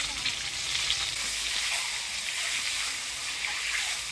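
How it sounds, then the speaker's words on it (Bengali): Eggs frying in oil with turmeric and salt, a dense, even crackling sizzle that holds steady throughout, close by with no voices. "এবারে হলুদ লবণ দিয়ে ডিমগুলো ভাজি নিব।"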